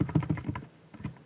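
Quick, light keystrokes on a computer keyboard as a command is typed into a command prompt: a close burst of several taps in uneven rhythm, then a brief pause and a couple more presses.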